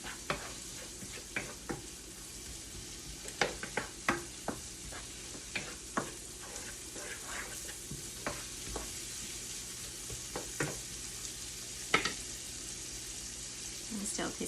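Roast beef sizzles steadily in a pan with onion, peppers, salt and pepper for a Philly cheesesteak, a constant frying hiss broken by frequent scraping clicks of stirring, close and alone.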